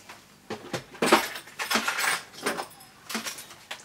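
Someone rummages through crafting supplies for small fussy-cutting scissors, producing a run of close, irregular clattering, clinking and scraping bursts of objects being shifted and knocked about, with no talk.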